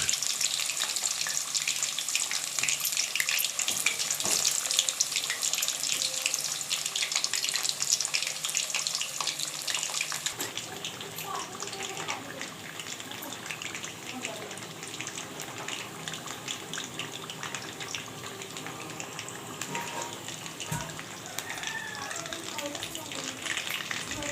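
Cut pointed gourd (potal) fries in hot oil, giving a steady, close crackling sizzle that is more intense for the first ten seconds and then settles into a softer bubbling fry with scattered pops.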